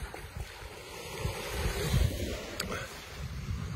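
Steady wind buffeting the microphone at Jaywick Beach with low surf rumbling beneath, a continuous rough roar that swells slightly in the middle.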